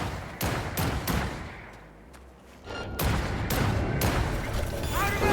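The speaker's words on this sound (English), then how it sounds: "Are they shooting at me?" Gunfire in Cyberpunk 2077 during a smuggling job, played on Very Hard difficulty: a run of sharp, loud shots in bursts, a short lull, then a denser barrage of repeated blasts close by.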